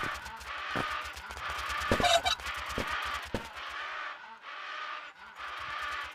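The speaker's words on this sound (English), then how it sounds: "Bro, I'm chasing this chicken to the sewing machine." Clucking and honking from a chicken in the video game Animal Company, repeated over a pulsing electronic background with a few sharp knocks.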